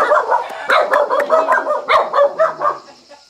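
A dog at a farm raising black chickens barks loudly and close by in a quick run of about ten sharp, yipping barks that taper off at the end.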